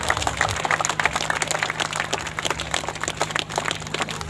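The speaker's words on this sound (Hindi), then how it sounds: "ताली बजाते रहेंगे।" Audience applause at an honoring ceremony where guests are draped with gamchha scarves, a dense steady patter of many hands clapping throughout, moderately loud with a low hum beneath.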